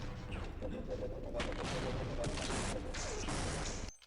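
Grenades exploding in the shooter game Half-Life: a dense, loud stretch of blasts and crashing debris with a continuous roar that cuts off sharply at the end.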